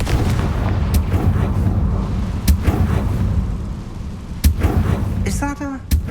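Confringo fire spell blasting in the Hogwarts Legacy video game, a few sharp booming explosion hits over a dense rumbling game soundscape, with a short burst of rapid crackling near the end.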